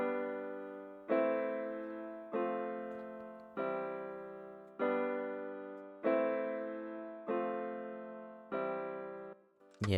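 A simple piano part from the free Keyzone Classic plugin: eight evenly spaced chords, each struck and left to decay, repeating in a steady moderate rhythm with no other sounds.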